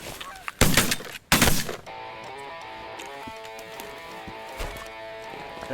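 Canada geese honk in a hunting setting, two loud bursts early on, the first with a sharp shot-like crack, then a steady chorus of overlapping honks continuing at moderate distance.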